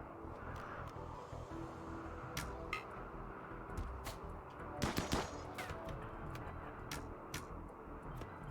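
Gunfire breaks out in the RimWorld colony game, with scattered sharp shots and short bursts popping faintly over a low background hum, the heaviest cluster coming midway.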